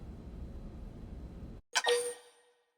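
A phone notification chime cuts through, a single bright ding with a ringing tail, right after background game music drops out.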